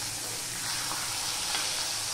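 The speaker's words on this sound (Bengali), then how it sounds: "এইভাবে আমি সমস্ত মাছগুলো ভেজে নেব।" Pomfret fish frying in a pan, lightly fried, giving a steady broadband sizzle with soft crackling that holds at an even level throughout, with no voices.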